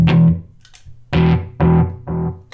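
A guitar runs through an Eventide Rose pedal's delay as a plucked phrase, followed by three distinct, fading repeats after a short gap. The sound is clear and close with no talking.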